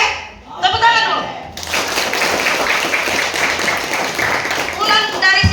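A group of junior high school students claps together during a school outreach session, a burst of dense hand clapping that follows a brief spoken prompt and runs for several seconds before a voice returns.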